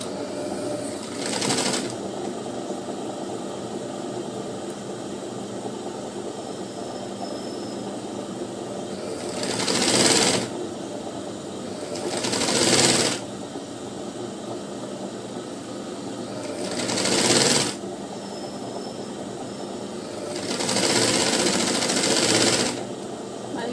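A sewing machine runs in short bursts while stitching a lined blouse, each burst of rapid mechanical whirring lasting a second or two and separated by quieter pauses, up close.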